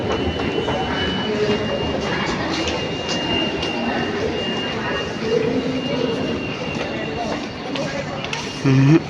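A metro train running, a continuous rumbling rail drone with a faint steady whine and passing clatter, with people talking nearby over it.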